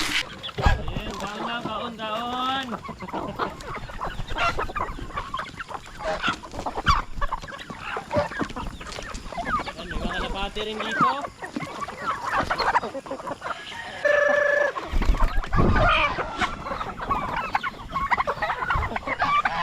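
Chickens, turkeys and geese feed on yellow corn at a farm, with dense overlapping clucking and occasional honks close by throughout.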